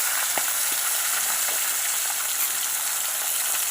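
Fish frying in hot oil on a stove fills the space with a steady, close, loud sizzle, with small crackles and pops scattered throughout and no voices.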